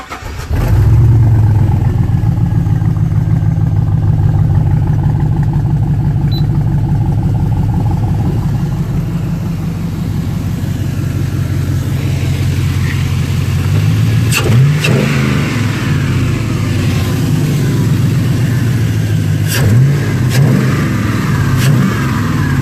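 A 5.3L V8 engine fitted in a Mazda Miata starts with a loud crank and catch, settles into a deep rumbling idle, then gets revved hard several times in sharp bursts, close and very loud.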